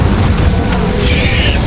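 An Incendio fire spell erupts in the Hogwarts Legacy video game, a loud, dense, roaring burst of flame and rumble that fills the short moment without a break.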